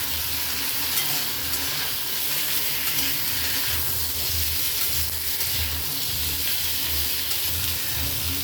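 Cut cucumbers hitting a pan of fried cumin paste and green chili, sizzling and crackling steadily with stirring throughout, no voices.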